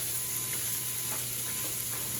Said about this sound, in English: I think crisping it up a little bit in a cast iron pan is a lot better